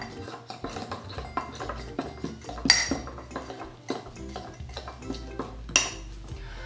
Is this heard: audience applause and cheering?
no